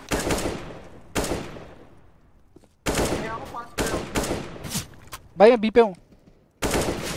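Gunfire in CS:GO: sharp bursts of rapid shots in several separate clusters, loud and close, with someone speaking briefly between them.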